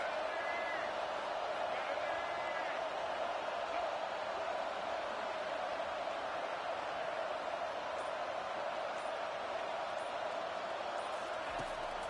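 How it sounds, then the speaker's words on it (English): Stadium crowd at a college football game, a steady loud roar of many voices filling the whole stretch, continuous and far-spread with no single voice standing out. "This crowd trying to make life miserable for this offense."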